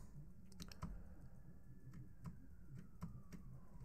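Keys clatter in scattered, irregular taps on a Razer Huntsman Mini 60% keyboard, heard faintly and close over a steady background hum.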